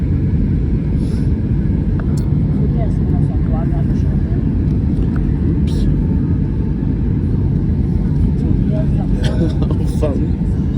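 Airliner landing in strong wind at Brussels Zaventem airport, heard from inside the cabin as a loud, steady rumble and roar that never lets up.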